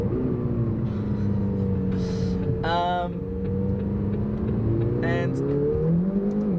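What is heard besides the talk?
McLaren GT sports car engine revving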